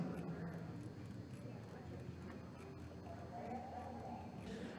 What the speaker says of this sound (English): with your right shoulder to the rail, please walk your horse